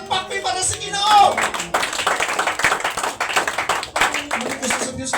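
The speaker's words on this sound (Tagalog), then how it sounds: "Palakpak may para sa Ginoo!" A church congregation claps for the Lord during a sermon, a dense burst of many hands clapping together, with voices calling out loudly over the applause.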